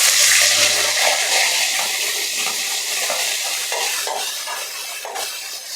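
Chopped onion and crushed garlic hit hot oil in a Tamil home kitchen, setting off a loud, dense sizzle that starts strong and slowly settles, with no voices.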